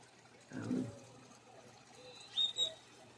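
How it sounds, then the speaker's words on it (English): Doves at a bird oasis give a soft, low cooing call nearby, followed by a couple of faint higher chirps and light rustling in a quiet outdoor setting. "Well, those are doves."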